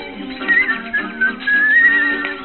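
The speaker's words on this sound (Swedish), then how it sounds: "Vi visslar lite grann." A person whistles a bright, wavering melody in short phrases, close and clear, with no talking.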